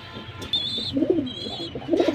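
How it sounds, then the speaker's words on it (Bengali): Hammer pigeons coo in low, throaty rolls, a couple of close calls with a faint high tone in the background. "এই আরেক যারা হ্যামার কবুতর"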